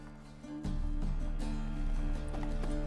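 Hooves of Roach, Geralt's horse in The Witcher 3, clip-clop at a steady trot, close and clear over a low ambient drone, with an occasional snort.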